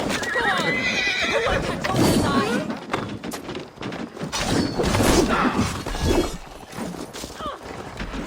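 In the video game Assassin's Creed, during the Siege of Paris, horses whinny and hooves pound in a gallop amid a loud, chaotic battle din, with voices shouting over the noise.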